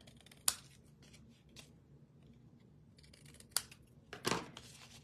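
Scissors snip along the edges of a patterned-paper Christmas card in a few sharp, close, isolated cuts spread across a quiet room, with soft handling rustle between.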